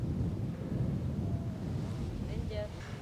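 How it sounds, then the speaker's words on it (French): Strong wind buffets the microphone on a golf course, a loud low rumbling roar that swells and dips throughout, with a faint tonal sound near the end. "Alors il y a un vent terrible."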